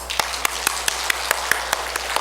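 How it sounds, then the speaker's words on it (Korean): Church congregation at an afternoon service clapping in a steady, evenly spaced rhythm, about ten sharp claps in quick succession against a soft hall background. "박수해 주세요."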